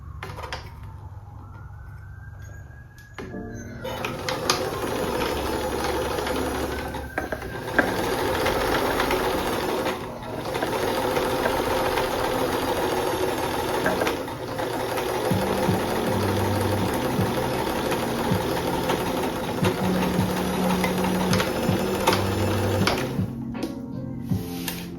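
A sewing machine runs a zigzag stitch along a fabric seam on a small bag, with a fast mechanical chattering whir that starts after a few seconds and carries on with brief pauses, fairly close and loud.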